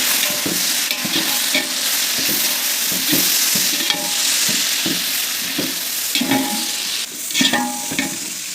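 Fried onions and three handfuls of mint are stirred in a large pot for a 3 kg chicken biryani. A steady sizzle runs throughout, broken by repeated scraping stir strokes.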